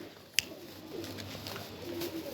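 Pigeons on a rooftop give soft, low coos, with a sharp knock or flap near the start and quiet ambient noise around them.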